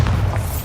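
The Bombarda explosion spell goes off in the Hogwarts Legacy video game as a short, deep, loud boom with no talk.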